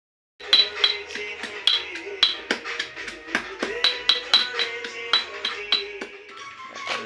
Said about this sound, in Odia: ରସୁଣ ଅଦା ଛେଚା ହେବ ଏଥିରେ ଛୋଟ ହେମଦସ୍ତା ଦେଖିପାରୁଥିବେ